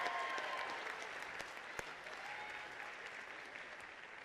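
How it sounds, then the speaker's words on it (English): Steady crowd applause rolls through a university commencement ceremony, many hands clapping at a distance, fairly quiet and gradually thinning out. "You can give him a round of applause."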